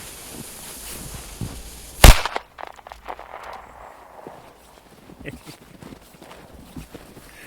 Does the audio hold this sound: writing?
no